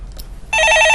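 A telephone bell starts ringing loudly and abruptly halfway through, a bright steady electronic trill on a broadcast studio phone line, following a brief quiet lead-in.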